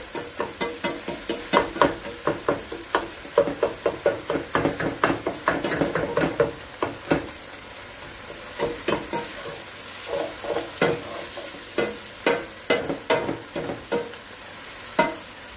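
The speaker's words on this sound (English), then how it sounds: "I'm going to use my beef separator. This is a Pampered Chef tool." A Pampered Chef beef separator scrapes and stirs chili meat through a sizzling pan, making a rapid series of rhythmic scraping strokes over constant frying hiss, loud and close, with a few sharper clicks of the tool against the pan.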